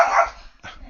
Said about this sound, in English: that's my dog having her voice.